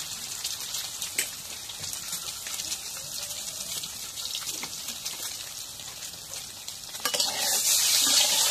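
Eggs fry in hot oil with a pinch of turmeric in a wok, giving a continuous close crackling sizzle that swells louder toward the end, with no talking.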